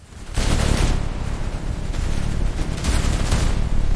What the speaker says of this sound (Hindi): ऊपर चट्टानों पर बने बंकरों से लगातार गोलियां चल रही थीं